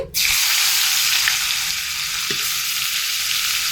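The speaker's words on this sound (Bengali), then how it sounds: "গরম তেলের মধ্যে পেঁয়াজ কুচিয়ে রেখেছিলাম সেগুলো দিয়ে দিচ্ছি" Chopped onions drop into hot oil and break into a loud, continuous sizzle that holds steady and close throughout.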